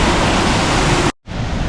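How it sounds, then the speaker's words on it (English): Ingleton waterfall rushes down U-bends and chutes in a loud, dense, unbroken roar that cuts out abruptly near the end, then resumes slightly softer. "there's some probably more dramatic U-bends and chutes on these waterfalls going down this side"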